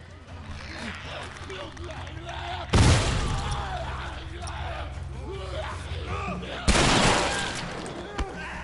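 Two sharp, loud bomb explosions in The Last of Us Remastered burst out a few seconds apart, each decaying into a rumbling roar over steady game ambience and voices.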